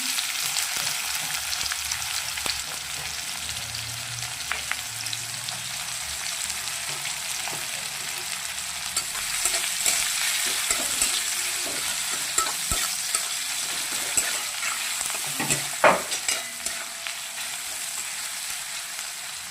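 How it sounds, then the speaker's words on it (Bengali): Onions frying in hot oil after a tempering of spices, a steady loud sizzle with scraping stirs of a utensil through the pan, heard close up with no talking. "আর এখানে দেবো এবার পেঁয়াজ দিয়ে দিলাম।"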